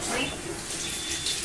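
Strong alkaline Kangen water at pH 11.5 running steadily onto a clean cloth, a continuous close splashing hiss with no pauses.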